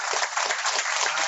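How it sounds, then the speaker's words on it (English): Clapping comes through on an online team call, a brief burst of dense, steady applause that sounds somewhat compressed, with no talk over it. "We have great claps from Mr. James."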